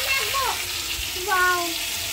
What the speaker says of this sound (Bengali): খাসির চর্বি ওল দিয়ে রান্না করছে